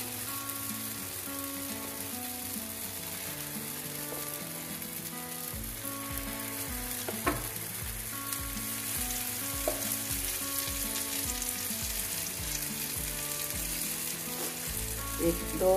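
Appe batter sizzles and crackles in an oiled appe pan, a continuous close frying hiss that runs throughout with small pops and no voices.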